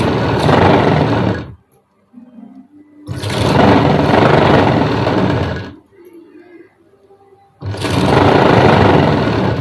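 Sewing machine stitching the lining of a blouse, three loud, close bursts of rapid mechanical rattling, each lasting a couple of seconds, separated by quiet pauses with faint handling noises.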